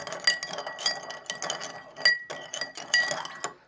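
A spoon stirs salt into water in a glass, clinking repeatedly against the glass walls in an uneven rhythm, close and fairly quiet, with no voices.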